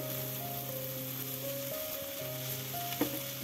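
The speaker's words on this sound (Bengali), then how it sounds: "এখন এই ভাজিটাকে নেড়ে দিচ্ছি।" Cabbage and egg fry sizzles steadily in a pan while being stirred, a soft continuous hiss with a faint scrape of the spatula near the end.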